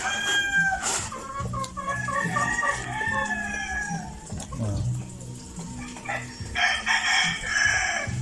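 Chickens cluck close by while a rooster crows, with faint voices in the background and a second crow-like call rising near the end.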